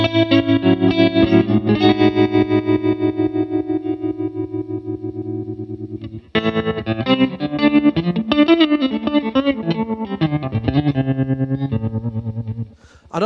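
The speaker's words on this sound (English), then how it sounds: "And also, of course, the vibrato." Electric guitar through a Fender American Special Mustang amp with vibrato on, loud held chords pulsing in a steady rapid wobble, then melodic single-note lines carrying the same throbbing modulation, played alone.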